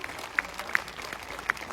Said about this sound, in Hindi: आपकी तालियां रुकनी नहीं चाहिए जब तक कि सर बोल नहीं देते